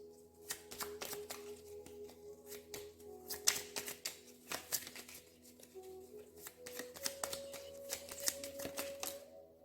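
Oracle cards being shuffled and drawn by hand in a quiet room, a dense run of soft riffling clicks and flicks at close range, with low background hum and no voices.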